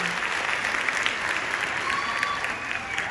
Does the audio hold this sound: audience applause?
yes